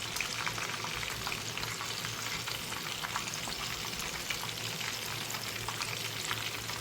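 Onion fritters (peyaji) fry in hot oil in a kadai, giving a continuous close crackling sizzle at moderate loudness with light bubbling pops and no talk.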